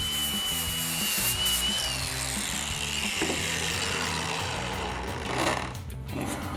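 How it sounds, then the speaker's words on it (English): A power tool with a flap disc grinding a steel off-road front bumper up close, a harsh whirring hiss with a pulsing, repetitive scraping rhythm. "Now I use my flat disc to clean this up."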